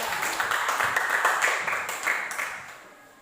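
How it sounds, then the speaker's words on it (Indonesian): A classroom of children claps for a classmate, giving a brisk, moderately loud round of applause that thins out and fades toward the end. "Berikan tepuk tangan kepada."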